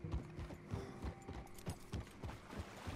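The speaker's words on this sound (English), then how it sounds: "Start galloping." Horse hooves clip-clop in a steady, rhythmic gallop in Red Dead Redemption 2, evenly spaced beats close by, fairly quiet with no talk over them.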